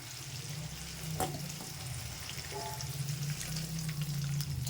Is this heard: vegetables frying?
yes